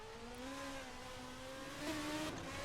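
Open-wheel F2 race car engines in a sim racing game at the Spa circuit: a steady, moderately faint rising engine whine holds through, with a second engine note layered in and a slight swell near the end, with no talking.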